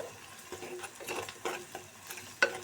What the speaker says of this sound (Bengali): তো মশলাগুলো এবার আমি ভালো করে কষিয়ে নেব